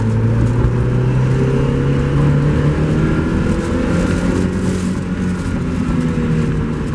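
A 2000 Mazda Miata engine pulls steadily in second gear with a continuous drone and whir that rises slowly in pitch, heard from inside the car with no talking.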